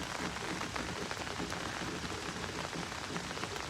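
Rain pattering steadily on an umbrella in a backyard, a dense, even hiss of drops close by with no clear voices over it.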